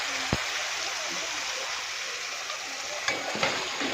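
Chicken pieces dropping into a spice masala frying in a pan: steady broad sizzle with a sharp thump near the start and a few clatters later, close and fairly loud, with no voices over it.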